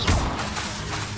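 Expelliarmus spell cast in the video game Hogwarts Legacy during a goblin fight, a loud whooshing magical burst with a heavy low thump at the start, then a sustained swishing rumble.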